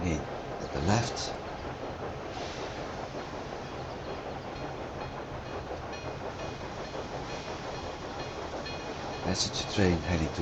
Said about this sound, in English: We have another train coming in at the left.